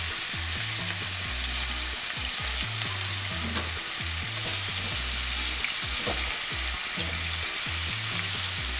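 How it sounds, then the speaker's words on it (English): Red Lechwe backstrap sears in hot oil, a steady, close, loud sizzle with fine crackling pops throughout and no talking. "Got this oil pretty hot to where it'll sear this meat"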